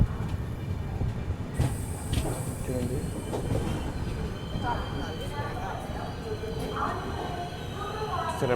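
A train rolls through Tadepalligudem station with a continuous rumble, wheel clatter and a high metallic squeal, while people talk nearby on the platform.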